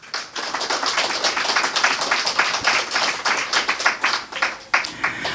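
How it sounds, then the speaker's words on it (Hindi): An audience at a spiritual discourse claps together in sustained, dense applause, loud and close, continuing steadily for several seconds without talk. "फिर एक बार ताली बजा लें"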